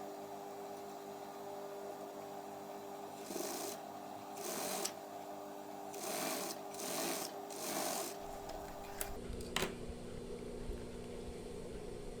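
A sewing machine runs in several bursts while stitching a batik shirt along its stiff interfacing fabric, the motor whirring steadily under a low constant hum, each run lasting about a second before pausing.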